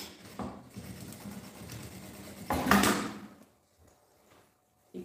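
A sewing machine runs briefly while stitching a zipper seam, giving a steady close mechanical whir with one louder surge near the end of the run before it stops and falls to near silence.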